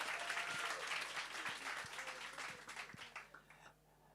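An audience at a workshop and expo in KwaMashu claps for the finalists, a brisk wash of applause with a few distinct claps, fading out over about four seconds; the sound is fairly quiet and distant.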